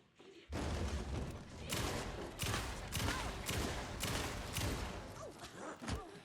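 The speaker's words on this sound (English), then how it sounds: "I think that's why this shotgun is automatic" Automatic shotgun blasts from the video game Alan Wake 2 fire in a rapid, loud, close run of heavy booms, continuing for several seconds with only slight gaps between shots.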